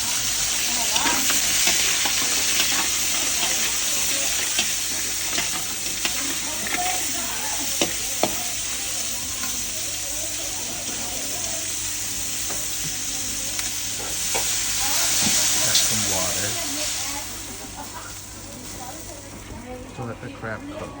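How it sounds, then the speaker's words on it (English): Crab meat sizzling hard in a pan with browned fried garlic, a steady dense hiss of frying with occasional crackles and stirring scrapes, heard close throughout. "Sizzling hard."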